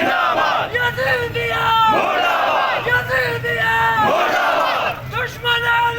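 A large protest crowd in Gilgit chants slogans in loud rhythmic waves, many voices rising and falling together in repeated calls, dense and continuous outdoors.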